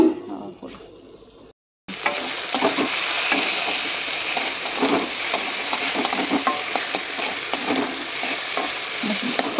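Potatoes and yardlong beans frying in a pan in a home kitchen, a close, steady sizzle with scraping stir strokes. A brief dip and cut near the start, then continuous cooking noise without talk.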